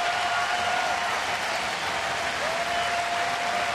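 A baseball stadium crowd at a Rockies–Blue Jays game applauds a pitcher leaving the mound, a broad, distant wash of steady clapping with a faint tone running through it.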